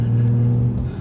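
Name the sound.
Jaguar XE S V6 engine revving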